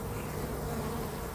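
Honeybees from a captured swarm buzz steadily and close by, a dense continuous drone with no talking over it.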